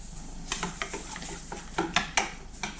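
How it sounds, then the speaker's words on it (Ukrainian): A spoon scrapes and taps around a bowl while stirring poppy seed pancake batter, a quick, uneven series of soft clicks, close up with no talking. "Все гарненько вимішую."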